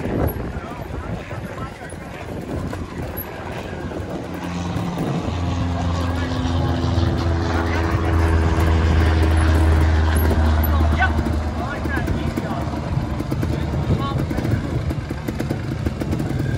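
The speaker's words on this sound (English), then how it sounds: "He's got to be nice and easy on the throttle here, not to spin that rear tire." GasGas trials motorcycle engine revving at a trials competition, a throaty drone that builds, holds steady and eases off again, with a commentator talking over it throughout.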